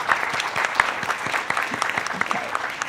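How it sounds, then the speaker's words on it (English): Brief, steady applause from a seated audience at a children's art show, many hands clapping at an even level with no speech over it. "Another round of applause."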